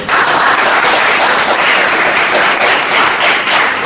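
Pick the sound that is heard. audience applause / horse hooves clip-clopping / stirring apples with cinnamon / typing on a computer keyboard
audience applause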